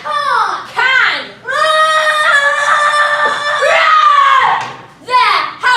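A girl screams loudly during a live stage play, a long sustained shriek with strong harmonics that rises and falls, preceded and followed by short shouted bursts.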